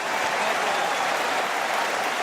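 A stadium crowd at the Roland Garros final cheers and applauds Roger Federer, a dense, loud and steady wash of clapping that fills the whole stretch with no gaps.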